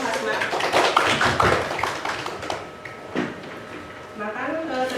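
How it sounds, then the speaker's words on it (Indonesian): A small group claps briefly and unevenly at close range, followed by quieter moments with some talking. "boleh tepuk tangan dulu nih Hasna."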